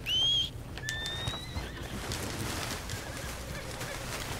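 A horse in Red Dead Redemption 2 gives a sharp high whinny at the start, then a fainter second call and soft hoofbeats against a low ambient background.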